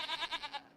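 A sheep bleats once in Farming Simulator 25, a short wavering cry heard up close and fairly quiet.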